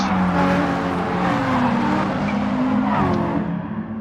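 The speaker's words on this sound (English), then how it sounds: "Engines are revving high, and yes, a couple of people get stuck there this time." Race car engines rev loudly and steadily at the start of a BB Raceway event in the RXGT racing video game, a dense, sustained engine roar with some tire-squeal texture, no talk over it.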